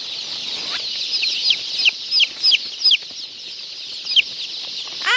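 Hens clucking inside a poultry farm shed, a steady murmur of many birds with sharper individual clucks and squawks popping out repeatedly, close and fairly loud, no talking.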